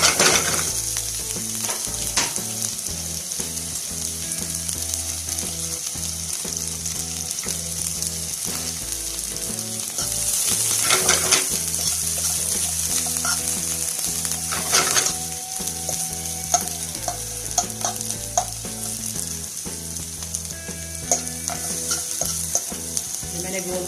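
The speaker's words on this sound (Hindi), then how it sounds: "ये प्याज हल्के से फ्राई करूँगी।" Sliced onions fry gently in a pan for gola kabab, giving a steady, close sizzle with frequent stirring scrapes and utensil knocks throughout, and no voices.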